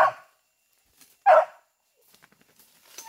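A hunting dog barks during a paca hunt in the woods, giving a couple of sharp, fairly close barks separated by quiet, with faint rustling and small clicks between them.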